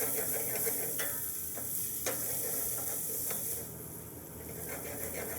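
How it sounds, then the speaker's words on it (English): Mirepoix vegetables and onions sweat in a pan with a soft, continuous sizzle and hiss, broken by a few faint clicks or stirs, heard close and alone. "So we've just sweated our mirepoix now for about 3 to 4 minutes."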